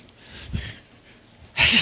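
A person imitates a sneeze: a couple of breathy inhales build up, then a sharp, hissing burst of air near the microphone.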